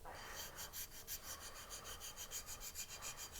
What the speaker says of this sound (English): This is a nice file that's going to give you a beautiful smooth inside.